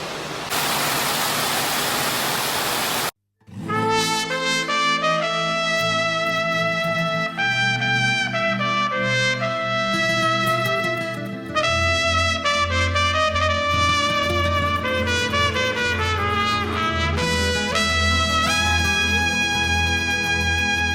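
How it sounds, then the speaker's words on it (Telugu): Water pours in a loud, hissing rush inside a limestone cave at Batu Caves, Malaysia, lasting about three seconds before cutting off abruptly; background music then plays steadily to the end. "ఆ వాటర్ ఎలా పడుతున్నాయో చూపిస్తాను ఆగండి మీకు."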